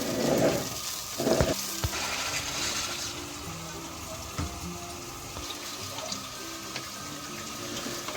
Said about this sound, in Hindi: ये देखें, पानी अब हमने शामिल कर दिया।